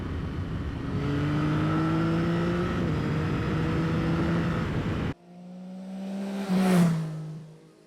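A Yamaha XSR900 GP motorcycle is ridden hard, its engine droning loudly as it holds revs and shifts gear. After an abrupt cut, the bike roars past in a rising, then falling sweep.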